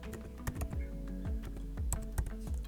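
Typing a Swift command on a computer keyboard, quick close keystrokes in an uneven rhythm over a steady low hum.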